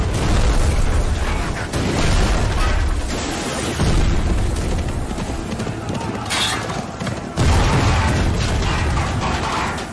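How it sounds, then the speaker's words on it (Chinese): In a film battle scene, launched blades strike and destroy a British army cannon, setting off an explosion: loud, dense booming bursts and rumbling within a busy, continuous clamor. "2条长剑迅速射出，穿透几名士兵后，摧毁了英军的大炮"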